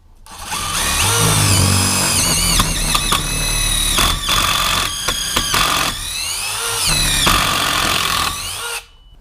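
A DeWalt DCF887 impact driver bores into wood with an 8 mm bit, whining loud and close almost without pause, its pitch dipping and rising as the bit bites and frees.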